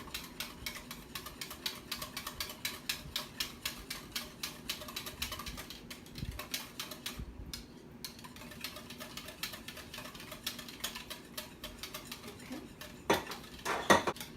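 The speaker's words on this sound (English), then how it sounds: "Just make sure that you are whisking at all times to incorporate it completely" A whisk beats dissolved gelatin into a bowl of milks, making a steady, quick run of light metallic clicks and taps up close, with a louder clatter near the end. There is no talking.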